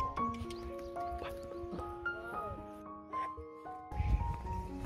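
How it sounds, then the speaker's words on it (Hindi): Horses rest on a mountain trail near Doodhpathri in Kashmir after a steep climb, with scattered hoof and harness sounds and tonal ringing notes in the open air, and people talking faintly nearby. "अभी घोड़े भी रेस्ट कर रहे हैं"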